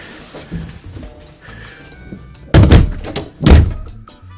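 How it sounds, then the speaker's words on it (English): A door thuds shut with two heavy, close thumps in quick succession, following quieter handling noises. "Oops, the door's open."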